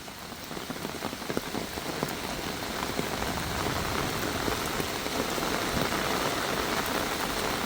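Heavy rain pours onto surfaces at a home in Thailand after months of drought, a dense, steady roar of drops with scattered sharper patters, close and continuous with no voices.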